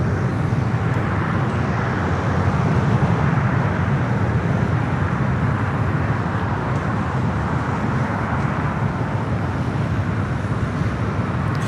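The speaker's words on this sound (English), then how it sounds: "the arrival of Aeromexico Flight 646. Coming up from Mexico City in this 11-year-old 787-8 Dreamliner." An 11-year-old Aeromexico Boeing 787-8 Dreamliner arrives at LAX from Mexico City, its broad, steady jet roar loud and sustained throughout, with no voices.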